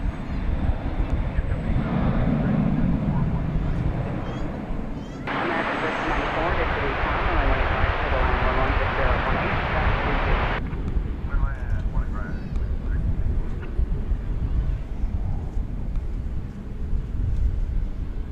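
An American Airlines Boeing 737-800 taking off at DFW Airport, a loud broad engine roar that swells and holds with wind buffeting the microphone, while a voice talks over it.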